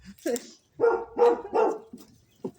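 Several dogs bark in a garden in short, loud bursts, with about four sharp barks close together and a final quieter yip.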